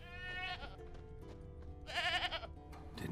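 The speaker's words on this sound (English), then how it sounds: "You hear the goat?" Goat in The Witcher 3, tied to a stake as forktail bait, bleats twice in wavering, nasal calls, the second louder, over quiet game ambience.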